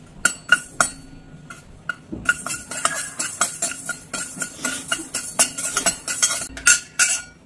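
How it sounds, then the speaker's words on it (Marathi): Fenugreek seeds roasting in a pan over a low flame, with repeated sharp clinks and scrapes of a spoon against the metal pan in an uneven rhythm, close and fairly loud, with no talk. "आता मोहरीची डाळ चांगली भाजून झाल्यावर आपण मेथ्या भाजून घेणार आहोत।"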